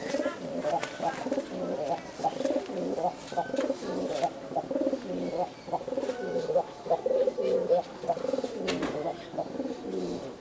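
Giribaz pigeons coo close by in a loft, a run of repeated throaty, rolling coos that overlap and pulse in steady bursts.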